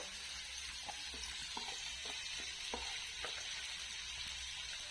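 Onion and tomato frying in a pan for a home-cooked meat curry, a steady broadband sizzle running the whole time with a few soft clicks of stirring or utensil taps, close and even in level, no voices.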